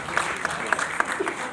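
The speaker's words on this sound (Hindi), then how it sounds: "एक बार जोरदार तालियां इन दिव्यांगजनों के सम्मान के लिए" An audience claps in honour of disabled people at an SC/ST teachers' forum award ceremony, with scattered distinct handclaps and a voice briefly heard over the applause.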